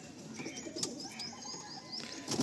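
Giribaz pigeons kept for sale make soft coos and chirps with a few light wing flaps, faint and close amid quiet background noise, no talk.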